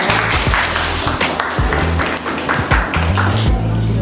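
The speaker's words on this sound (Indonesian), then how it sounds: "Oke, tepuk tangan untuk" Applause from a secondary-school history class breaks out and carries on steadily for a few seconds, dense and fairly loud, with low tonal hum and tapping beneath it.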